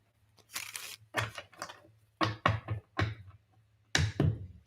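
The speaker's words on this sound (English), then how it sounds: "One more shuffle." Tarot cards shuffled by hand in several bursts of papery riffling and slapping, close and fairly quiet, with a low steady hum underneath.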